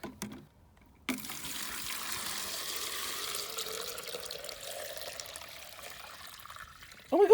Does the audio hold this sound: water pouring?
yes